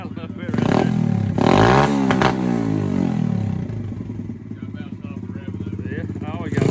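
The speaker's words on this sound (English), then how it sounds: "Give him a little rev right there." Yamaha TTR-110 dirt bike, fitted with an upgraded carburetor and exhaust, revs up loudly for about three seconds and then settles to a steady idle. The engine is heard close by, and people talk over it.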